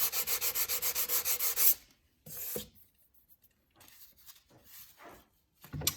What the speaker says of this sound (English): come back with your sand block and start to sand it down